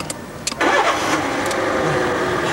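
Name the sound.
car engine starting after a breakdown in a TV advert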